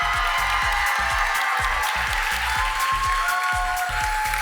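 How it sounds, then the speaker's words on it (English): A crowd at a pageant finals applauds its contestants in a dense, continuous wash of clapping with low thumping beats running underneath, loud and sustained. "Can we give a big round of applause for all of our contestants on the stage tonight?"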